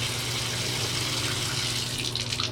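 A faucet turned fully to hot lets cold water run in a steady, even hiss of flowing water, close by and continuous with no talking.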